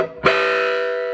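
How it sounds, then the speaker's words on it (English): An electric guitar chord, played through a cheap battery-powered solid-state amplifier, rings out with gritty distortion after a sharp attack and sustains loudly, with no talking. "This is a cheap battery-powered amplifier, solid state, so it gets some funky, distorted tones sometimes"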